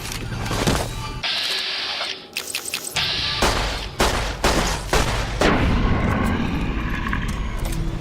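Gunshots from a firearm in Fallout: New Vegas, loud sharp cracks in irregular bursts over about eight seconds, some bunched rapidly together, with echoing tails and background combat noise.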